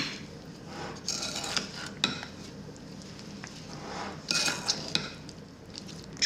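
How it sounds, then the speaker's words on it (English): Peach pie filling with cinnamon and cornstarch stirred in a bowl, a spoon scraping and clinking against the sides in irregular bursts, close and moderately loud, with no talking. "I don't want big clumps of cornstarch in here, so I'm mixing it pretty well."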